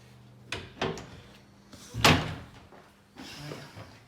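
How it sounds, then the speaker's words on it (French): A house's front door is opened and closed with a few sharp knocks and clunks, one louder bang near the middle, then softer handling noise in a quiet indoor space. "je vous fais rentrer par la porte d'entrée"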